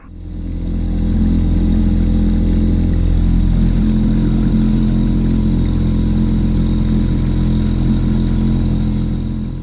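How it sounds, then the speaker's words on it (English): An outboard motor on an inflatable boat idles at tick-over on Loch Etive, a steady, even low drone held close and loud for the whole stretch, with no voices. "I kept the outboard and tick over, and it moved the lure at a perfect speed through the water."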